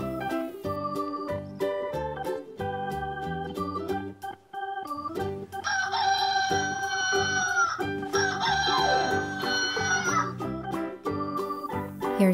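Toy-farm chickens cluck and a rooster crows, the fowl calls repeating over a steady musical backing and growing louder and busier midway through.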